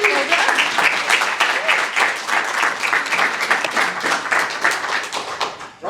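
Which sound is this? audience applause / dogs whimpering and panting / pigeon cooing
audience applause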